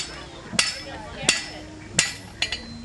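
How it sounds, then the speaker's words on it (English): Blacksmith at a Renaissance faire hammering a metal bar back onto itself over the edge of an anvil, four sharp ringing strikes spaced roughly evenly, the last one a quick double hit. "take off the ragged edges on the front by hammering the bar back onto itself"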